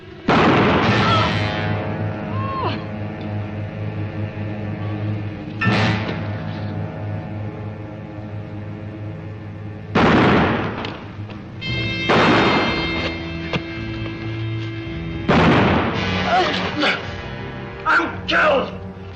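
Sharp, loud gunshots crack out in a black-and-white western, several separate blasts spaced seconds apart, each ringing off into an echoing tail between stretches of dialogue and music.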